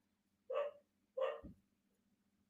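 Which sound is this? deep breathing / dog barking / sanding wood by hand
dog barking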